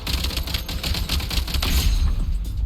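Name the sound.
gunfire from a gun in a video game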